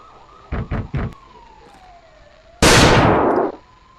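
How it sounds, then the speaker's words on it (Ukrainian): A few quick knocks are followed by a faint falling police siren tone, then a loud pistol shot in a boarded-up room that fades away. "пролунали поліцейські сирени а в забитій дошками кімнаті пістолетний постріл"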